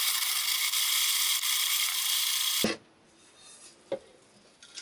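Berries are ground in a hand-cranked grain mill, a steady coarse rasping grind that stops abruptly partway through, followed by quiet with a couple of faint knocks and handling sounds.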